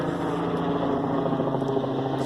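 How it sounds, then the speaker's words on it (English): A propeller aircraft drones steadily overhead, a loud continuous engine hum with a low throbbing tone that holds level throughout, with no voices over it. "Got that airplane."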